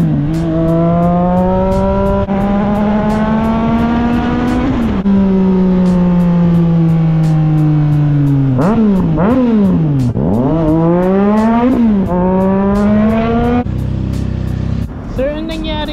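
A loud Triumph Trident motorcycle engine revs up and down repeatedly, pitch climbing and falling through gear changes, continuous and close throughout.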